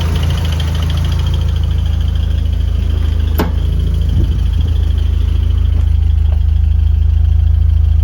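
A car engine idling steady and loud after finally starting, a constant low rumble holding even throughout, with a brief click partway and a few faint knocks.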